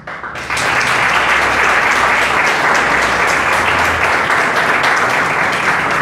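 Loud applause from a crowd at an award ceremony in Arroyito honoring local residents: it starts abruptly and becomes a dense, sustained wash of clapping that stays strong throughout.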